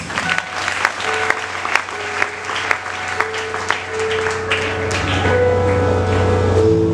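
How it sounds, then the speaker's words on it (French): A church congregation applauds during a worship service with scattered, uneven clapping that grows into fuller applause, while sustained musical tones from instruments rise underneath toward the end. "Applaudissez-nous."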